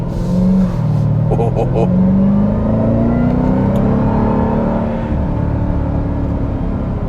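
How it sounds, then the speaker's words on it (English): A 2021 Dodge Durango SRT Hellcat's supercharged 6.2-liter V8 revs hard and accelerates up close, its rising supercharger whine sweeping upward over a deep, steady roar. "when I first started accelerating, you guys heard that supercharged whine."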